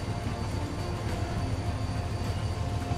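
A BR 612 train rides from the cab in the video game Transport Fever 2. It gives a steady, continuous rolling rumble of wheels and engine with a faint rhythmic rail beat, alone and unbroken throughout.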